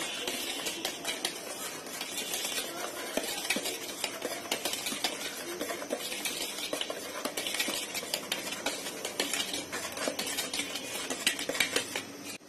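Steady, rapid clinking and scraping of a utensil stirring batter for a Japanese chocolate cotton cake in a bowl, continuous and close, with no talking.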